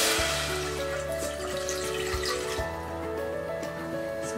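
Water pours and splashes into a pan on a gas hob while rasam is being started, a continuous liquid rush with a low ringing hum behind it.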